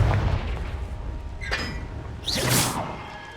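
A Confringo blasting spell from Hogwarts Legacy goes off, with a sharp crack followed a second later by a bright, hissing burst that fades quickly over low ambient rumble.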